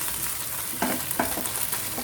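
Ginger garlic paste sautéing in a pan for chicken keema cutlets, a soft continuous sizzle broken by a few stirring scrapes, close and moderately loud.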